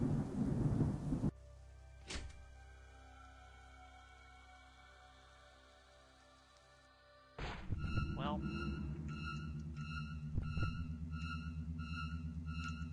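Ambient storm in the horror game Ao Oni R: a loud crack of thunder bursts in partway through, then a steady rush of rain with a low rumble continues beneath faint game tones.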